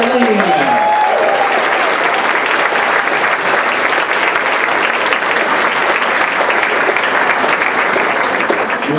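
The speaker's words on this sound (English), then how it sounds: "We get a big round of applause for Charlene" Sustained, loud audience applause at an orchestra concert, a dense steady wash of clapping from a large crowd lasting throughout, with a brief voice at the very start.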